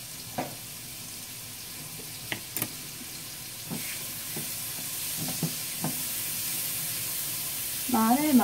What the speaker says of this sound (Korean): 마늘 기름을 조금 내줄게요.